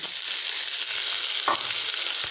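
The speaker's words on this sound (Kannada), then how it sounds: "ಹಾಕ್ಕೊಂಡು ಸ್ವಲ್ಪ ಫ್ರೈ ಮಾಡ್ಕೋಬೇಕು ಫ್ರೈ ಮಾಡ್ಕೊಂಡು" Soaked toor dal frying in a pan, a steady close sizzle with faint stirring clinks, no talking.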